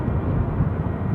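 A brand-new British Airways Airbus A321neo airliner moving at Edinburgh airport gives a steady, low broadband engine rumble that holds level throughout, with no one talking.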